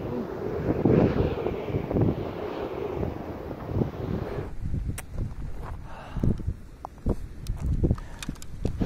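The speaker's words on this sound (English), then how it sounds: "Too light wind." Light wind buffets an outdoor microphone during a kite flying test, a steady rough rumble that dies down halfway through, leaving faint wind and scattered soft knocks.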